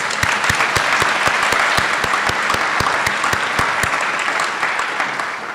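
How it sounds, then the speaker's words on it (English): A graduation ceremony audience for a university flight academy's cadets applauds steadily, with loud, dense clapping and sharp claps standing out near the front. The applause holds at full strength throughout and begins to thin slightly at the end. "Give them another round of applause."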